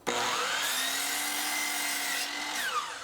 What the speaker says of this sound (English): I set my blade at the 5-degree angle